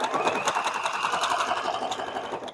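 An embroidery sewing machine runs a wide stitch around a circle, its steady rapid needle pulse close and continuous for the whole stretch before stopping at the end.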